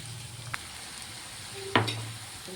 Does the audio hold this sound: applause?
no